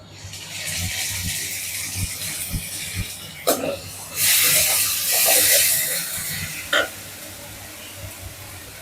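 Ginger and garlic sizzle in hot oil in a pan for chicken gravy, the frying hiss swelling in loud bursts over a steady background, with talk in between.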